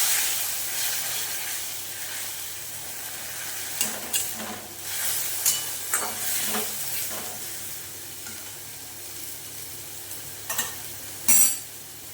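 Tomato paste sautés with onions in a pan for rajma curry, a low continuous sizzle punctuated by scattered stirring scrapes and taps, with a louder knock near the end.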